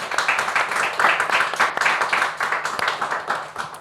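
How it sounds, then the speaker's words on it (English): Audience applause for Shane, a young trucking-services entrepreneur, at the close of an interview: a steady, dense patter of many hands clapping at moderate loudness, sustained without pause for the whole stretch. "A big round of applause one more time for Shane"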